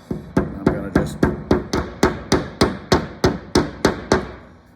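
Anchors are tapped flush with channel lock pliers used as a hammer during thermostat mounting, about thirteen sharp, evenly spaced metallic knocks close up, each ringing briefly.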